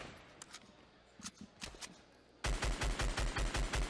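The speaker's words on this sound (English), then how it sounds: "Even when he's shooting just the assault rifle." Assault rifle gunfire in Fortnite Battle Royale: scattered single shots at first, then a loud rapid burst of evenly spaced automatic fire, no talk.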